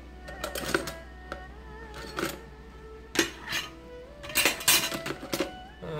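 A spoon stirring a pork and shrimp siomay filling in a bowl, with scattered clinks and scrapes of metal on the dish, close and irregular, in bursts of varied loudness.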